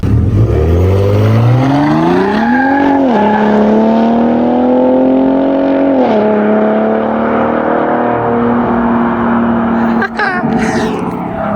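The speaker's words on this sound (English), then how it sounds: "It is a lot louder than I thought when you have it in the Baja mode for the exhaust" A Ford Raptor pickup with its exhaust set to Baja mode roars loudly and up close, the engine note climbing through repeated rising sweeps as it accelerates hard through the gears, with a brief break near the end before it pulls again.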